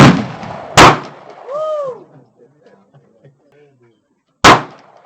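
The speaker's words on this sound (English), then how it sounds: "I was able to shoot buckshot with this." A black powder shotgun fires slug rounds, two sharp, loud booms separated by a few seconds. A short voice exclamation follows the first shot, then quiet murmuring.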